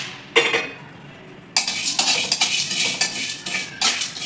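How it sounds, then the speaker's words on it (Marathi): Garam masala and ground spices are dry-roasted in a pan on low heat, heard as close metallic scraping and stirring strokes of a spoon against the pan, in repeated bursts with no talking. "हे बघा, आता हे सर्व टाकून आपण गरम मसाला भाजून घ्यायचा"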